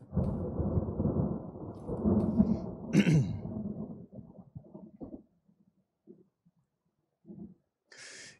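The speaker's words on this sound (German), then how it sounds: "Vielleicht hört's ja gleich auf hier mit dem Gewitter." Thunder rolls in a long, deep rumble during a thunderstorm in the Russian Fishing 4 video game, loud and sustained for several seconds before fading into scattered lighter crackles and quiet.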